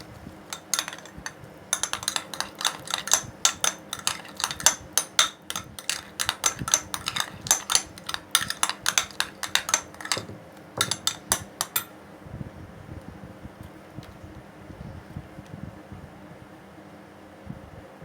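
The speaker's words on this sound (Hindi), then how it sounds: "अब हम इसे मिक्स करेंगे।" A utensil clinks and scrapes rhythmically against a bowl while coloured cream is mixed for a unicorn cake, with rapid close taps for about twelve seconds that then slow to softer scrapes over a faint steady hum.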